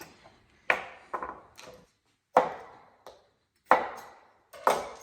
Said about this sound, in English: So let's start chopping.